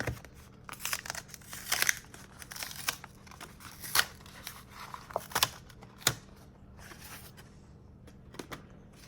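A 1988 Donruss baseball card wax pack is torn open and handled, giving close, sharp crinkles and rips in irregular bursts, loudest early on, then quieter rustling of cards.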